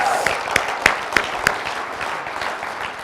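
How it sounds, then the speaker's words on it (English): Audience applause at a school district's annual address fills the room steadily, with a few sharp whoops and accents riding over the continuous clapping. "Big round of applause."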